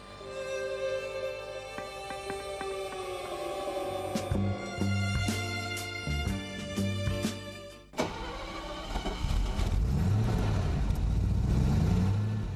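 A Mercedes-Benz 280 SE 3.5 coupe from the W111 series is driven, its engine giving a steady tonal hum that rises and shifts, then settles into a rougher, fuller running roar after a brief dip near the end.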